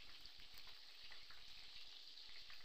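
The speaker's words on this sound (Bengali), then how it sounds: "পটলটা ভেজে নিচ্ছি।" A pointed gourd (potol) fries in a pan, giving a steady, close sizzle with crackling pops throughout and no talking.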